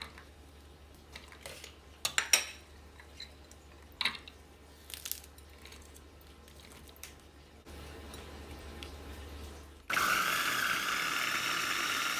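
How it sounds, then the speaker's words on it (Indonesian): A Mitoshiba CH200 electric chopper grinding spices for a squid and petai sambal, preceded by scattered clicks and clatter, then a steady motor whir that jumps to a louder, harsher grinding roar near the end. "Saya akan menghaluskan bumbunya menggunakan chopper dari Mitoshiba Elektronik, kodenya CH200."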